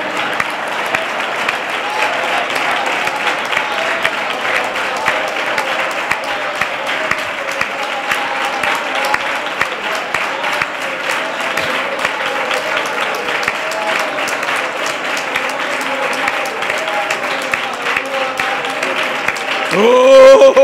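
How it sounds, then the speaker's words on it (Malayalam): A church congregation claps hands continuously and steadily throughout a Malayalam worship service, the dense clapping filling the room with voices and music faintly beneath it, swelling slightly at the very end. "കൈയടിച്ചാട്ടെ, കൈയടിച്ചാട്ടെ."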